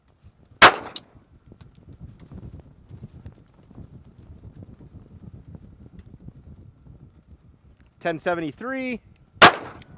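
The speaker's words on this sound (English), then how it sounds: "So we'll do 5 rounds out of the non-carry comp Bodyguard." Two sharp, loud pistol shots from a Smith & Wesson Bodyguard 2.0 fired over a chronograph at a range, spaced far apart, with a quiet stretch between them and a brief spoken phrase just before the second shot.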